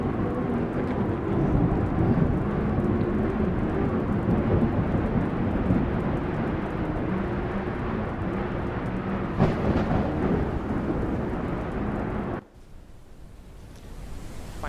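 A simulated thunderstorm plays as a steady, loud roar of heavy rain and rumbling thunder with wind, filling the scene continuously before cutting off abruptly near the end to a quieter hiss.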